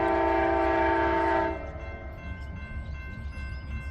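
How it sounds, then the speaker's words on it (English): The eastbound California Zephyr passenger train leaves Omaha and sounds a loud, sustained horn blast, which cuts off abruptly and leaves a low rumble of the moving train rolling through Pacific Junction, Iowa. "here comes the eastbound California Zephyr. Leaving Omaha."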